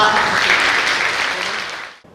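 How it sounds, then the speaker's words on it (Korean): Audience applause greeting two art directors at a biennale forum, a dense, loud, even round of clapping that holds steady and then stops abruptly near the end. "두 분의 예술 감독님들 여러분의 큰 박수 함께 보시겠습니다"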